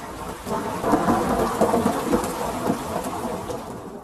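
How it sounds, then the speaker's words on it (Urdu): A sudden strong windstorm and thunderstorm sweeps through a forest: steady, dense rain hiss with deep rolling thunder rumbling throughout, loud and continuous, with no voices. "ایک دن وہ جنگل میں لکڑیاں کاٹ رہے تھے کہ اچانک تیز آندھی اور طوفان آنے لگا۔"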